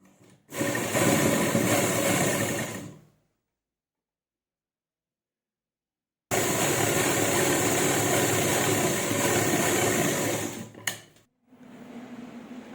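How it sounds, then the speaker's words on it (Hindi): An electric sewing machine stitches a folded fabric neck strip for a neckline, running in two steady bursts of close, continuous whirring separated by a few seconds of silence. "इसे फोल्ड करने के बाद अब इस पर हम सिलाई लगाएंगे"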